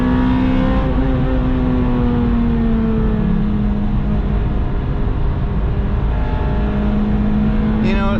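Acura RSX Type S with a K20Z1 engine revving hard in third gear, a loud, steady engine drone with rising harmonics heard from inside the car throughout.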